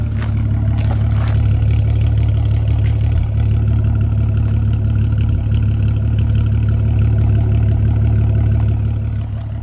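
Exhaust of a 2008 VW R32 with the resonator deleted and replaced by a straight pipe, a deep steady idling drone that is loud, close and constant, with no talking.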